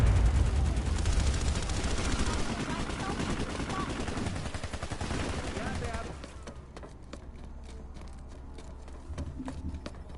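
Gunfire in Planetside 2, a dense stream of rapid automatic shots and explosions that is loud at first and then thins to a quieter rumble with scattered shots.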